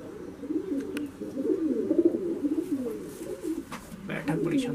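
A pure Andhra breed pigeon coos close by in repeated soft, throaty rolls, with a brief flutter near the end. Voices can be heard faintly in the background.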